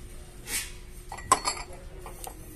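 Italian clay pottery dishes and a clay dish lid clink as they are handled, with a few separate sharp knocks and one brighter ring in the middle, all fairly quiet and close.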